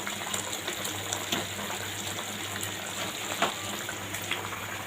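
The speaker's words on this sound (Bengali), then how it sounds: "এবার আমি এখানে বড়াগুলো ছেড়ে দেবো।" Flour fritters (bora) for a vegetarian dish drop into boiling gravy, which bubbles and gushes with a continuous watery hiss and scattered splashes throughout.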